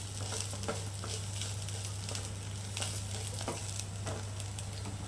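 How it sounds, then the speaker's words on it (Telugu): Coriander powder and cumin powder fry in a pan for tomato pulusu, a steady close sizzle broken by scraping stir strokes, over a low constant hum and with no talking. "ధనియా పౌడర్, జీరా పౌడర్ ఇవన్నీ ఉన్నాయి కదా, అందుకని కొంచెం ఫ్రై అవ్వాలి."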